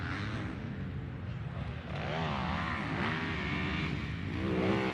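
Dirt bike motorcycle ridden in a higher gear through long, deep ruts, its engine droning and revving with rising pitch as it pulls hard, loud and continuous with rough roar beneath.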